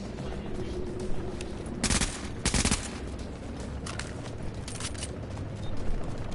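Machine gun fire in a video game crackles in a few short, distant bursts over a steady wash of noisy background rumble, with no clear talk.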